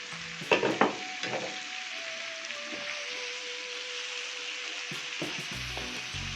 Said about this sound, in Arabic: هنزل بالسجق